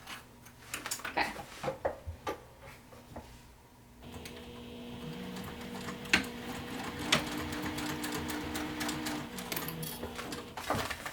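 A sewing machine stitches a bag, starting with a few short taps and pauses, then settling into a faint, steady run of mechanical clatter.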